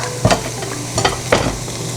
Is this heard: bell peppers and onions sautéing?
yes